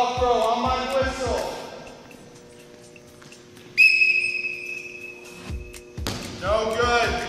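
A sharp, loud referee whistle blast cuts in midway during a dodgeball game, with people talking before it and a ball bouncing nearby.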